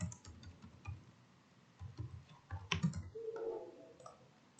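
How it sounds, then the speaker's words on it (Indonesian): Fingers type on a computer keyboard, producing faint, irregular clicks and short bursts of keystrokes close by in a quiet room. "diketik secara manual"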